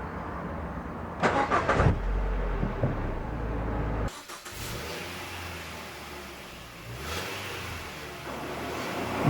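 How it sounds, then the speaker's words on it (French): Car engine left running at constant idle speed during a pre-oil-change additive treatment, a low steady hum with a brief burst of louder noise early on, then a quieter, even drone continuing to the end. "on va faire tourner le moteur à peu près un quart d'heure"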